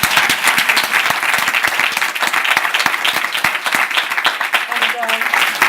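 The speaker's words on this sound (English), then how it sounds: "let's one more time give a clap to our translators." A crowd claps for the translators at a conference closing session, a thick, continuous wash of applause with sharp individual claps standing out, loud and close, with a voice briefly heard near the end.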